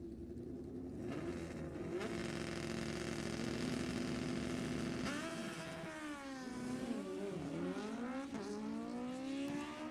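Drag-racing motorcycle at Sacramento Raceway, engine droning steadily at idle then revving up and down in several rising and falling sweeps, loud and close throughout.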